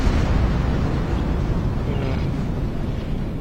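The Shiassi Galor ship's auto-destruct explosion in Star Trek Online, a loud, sustained roaring rumble that stays steady and heavy without distinct separate blasts.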